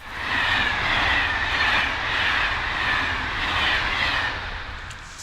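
Train running along a railway line near a woodland spot, a steady rumbling roar with rolling clatter and a faint high wheel squeal, moderately distant and sustained for several seconds.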